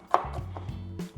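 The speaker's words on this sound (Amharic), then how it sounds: "አሳንሰን እንደዚህ በትንሹ እንዲዘገል ካሮቱን ከትፈዋለን።" A knife strikes a cutting board as carrots are chopped. Two or three short, close taps come in quick succession, with a faint low hum between them.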